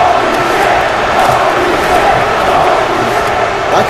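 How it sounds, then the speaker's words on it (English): A packed crowd roars and cheers without a break at a live professional wrestling show, a loud, dense and continuous wall of noise. "this crowd is going nuts right now"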